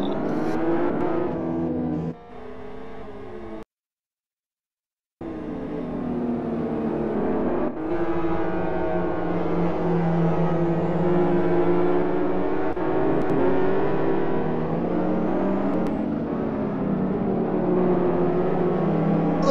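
GT2 race cars lap South City Long during a qualifying session in a racing game, engines droning and revving continuously with rising and falling pitch as cars pass, broken by a short dropout of silence.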